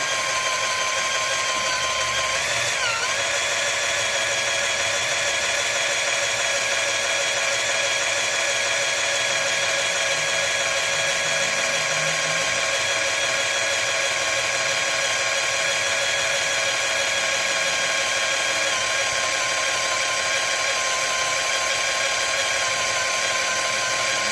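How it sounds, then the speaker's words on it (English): A power drill with a 13/64 bit bores slowly and steadily into a broken bolt in the valve cover of a 2002 Honda Accord, giving a continuous high whining drone for the whole stretch with no pauses or talk. "I'm going nice and slow here because I only have one 13/64 drill bit, and I don't want it to get dull."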